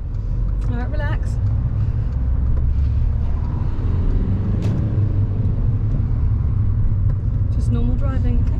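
A car engine rumbles steadily from inside the cabin during ordinary driving toward a roundabout, a continuous low drone running the whole time beneath an instructor's and learner's voices.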